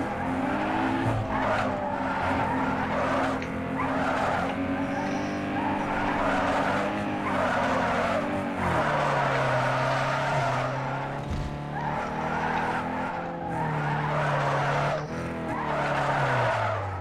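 Need for Speed Underground 2 car drifting, its engine droning steadily while tires screech through long, loud skids for the whole stretch, with no talk over it.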